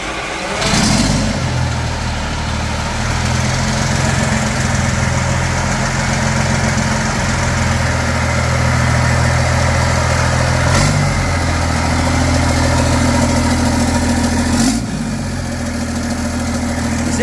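A freshly rebuilt engine with a restored dynamo and no exhaust fitted runs on a test, idling loud and raw with a steady throbbing rumble, broken by a couple of sharp revs or clanks.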